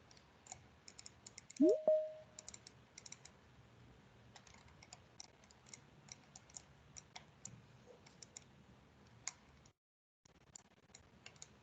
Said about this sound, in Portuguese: Tô clicando e nada acontece.